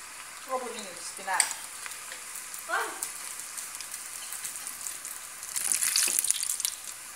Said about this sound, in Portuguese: agora eu vou estar levando para fritar